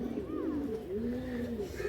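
A pair of Kalanka pigeons brought from Andhra coo in a loft, a close, soft rolling coo lasting under two seconds with faint background noise.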